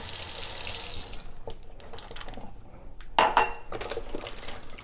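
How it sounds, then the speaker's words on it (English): Water poured from a mason jar into a potted poinsettia, a splashing trickle that starts and stops with a brief louder gush near the end, close and alone. "I'm going to take a mason jar with some water. I'm going to add some water here."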